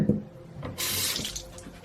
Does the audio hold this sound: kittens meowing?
no